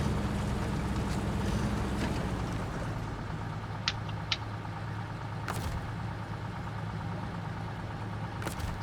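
A truck engine idles in the SnowRunner video game, a steady low rumbling drone with a constant hum, moderately loud and unbroken, with a few faint clicks over it.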